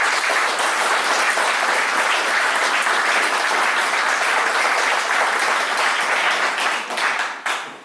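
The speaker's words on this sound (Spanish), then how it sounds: "a quien pido un gran aplauso esta noche" Loud, sustained applause from a book launch audience, even and continuous before tapering off near the end.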